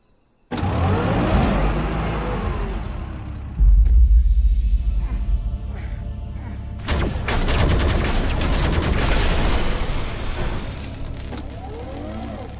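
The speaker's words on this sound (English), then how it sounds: "those grenades did a lot of damage already" Grenades blast in the video game Dysmantle amid loud rumbling combat, with a heavy low boom partway through and a burst of sharp crackling impacts later, all close and continuous with no talk.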